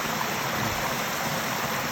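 Steady, close rushing of a rainy-season waterfall, a broad unbroken roar with no voices.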